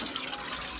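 Water runs steadily from an old-style bathroom shower in a remote village in Cianjur, a soft, even hiss with no break over a short moment.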